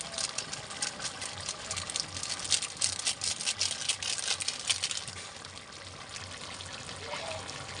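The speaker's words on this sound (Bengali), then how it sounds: "জল দিলাম, এবার একটু ফুটবে।" Water pours into a cooking pot in a steady, hissing splash that runs strongly for about five seconds, then eases into a softer trickle.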